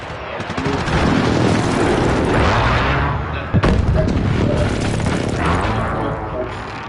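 Precision airstrike explosions in a video game make a loud, sustained rumble of blasts, broken by a sharp new impact midway, then more booming and crackling.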